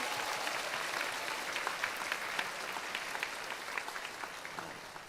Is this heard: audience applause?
yes